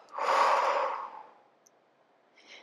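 A single long, audible exhale during a floor yoga sequence for the shoulders: a close, breathy whoosh that fades out, followed by a faint short breath.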